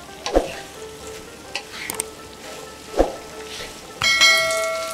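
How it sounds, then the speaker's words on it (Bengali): Potatoes sautéed in a pan for Bengali aloo posto over medium-low flame, a steady sizzle with a few sharp stirring scrapes and clanks, plus a louder clatter near the end. "এক 2 মিনিট এটাকে ভালো করে একটু কষে নেব, একটু মাখো মাখো হলে তখন জল একটু দেব"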